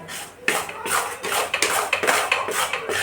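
A metal spoon repeatedly scrapes and knocks through gram flour roasting in a pan, making a steady run of bright clinks and scrapes about every half second, close and fairly loud with no talk.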